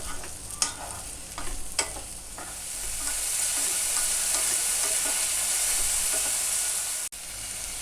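Vegetables for a coconut-milk vegetable stew are stirred in a pan over high flame: a few sharp spoon scrapes early, then a loud, steady frying hiss close by that cuts off near the end; no speech.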